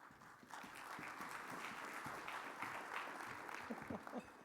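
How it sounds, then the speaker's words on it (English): An audience claps steadily for several seconds at an awards breakfast as Dr. Marlene Trump, the chair, is welcomed, a dense patter of hands with a few sharper claps near the end. "you guys didn't need to clap for me again"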